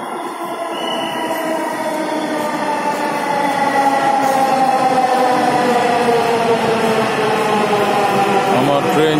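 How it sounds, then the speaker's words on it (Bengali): A train arriving at a station produces a loud, continuous mechanical whine whose tones slowly rise in pitch. A rumbling undertone grows steadily stronger over the whole stretch. "আমার ট্রেন চলে আসছে,"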